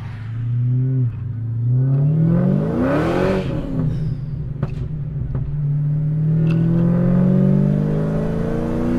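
A 2021 Dodge Challenger Hellcat Redeye widebody, supercharged and tuned to about 1300 horsepower, pulls hard from inside the cabin, its engine note climbing and dipping through a gear change before rising again into a loud, close, steady roar.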